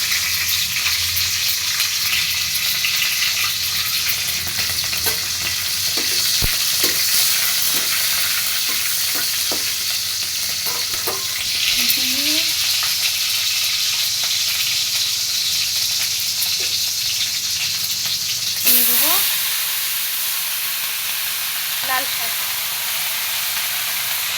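Black cumin and green chili frying in hot oil for a vegetarian dish give a long, steady sizzling hiss with intermittent scrapes and stirring clinks, loud and close, no voices.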